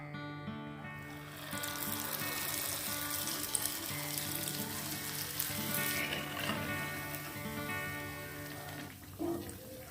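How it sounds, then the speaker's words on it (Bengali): Kheer malpoa for a Janmashtami offering frying in hot oil, a steady dense sizzle and bubbling that carries on evenly throughout, with a brief clatter near the end. "ক্ষীরের মালপোয়া আমার ভাজা হয়ে গেল, এবার বাকিগুলো ভেজে আমি তোমাদের দেখাচ্ছি"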